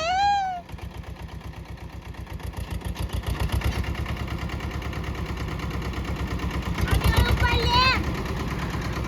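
A tractor engine chugs and idles low and steady throughout, rising slightly later, with brief high voice-like sounds at the start and near the end.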